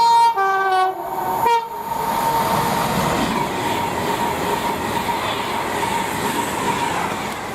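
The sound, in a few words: class 390 train passing, Manchester Piccadilly to London Euston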